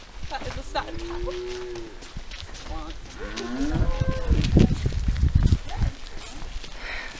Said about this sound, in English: That is a sad cow.